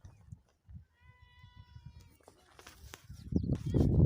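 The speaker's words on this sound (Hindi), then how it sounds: "हीअ बि ॿकरी मुंहिंजी आहे। हे गाह खाई रही आहे" A goat bleats while grazing on grass outdoors, a clear wavering call near the start, followed by rustling, chewing and handling sounds that grow louder toward the end.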